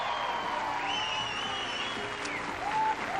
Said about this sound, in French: je voudrais qu'on applaudisse très très fort pour commencer Monsieur Gad Elmaleh